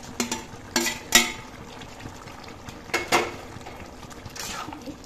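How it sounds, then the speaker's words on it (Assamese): Chicken pieces go into a pan of cooked, watery bottle gourd and get stirred for a chicken curry, with several sharp utensil scrapes and clatters against the pan over a low simmer. "এতিয়া ইয়াত মই মাংসখিনি দি ল'ম"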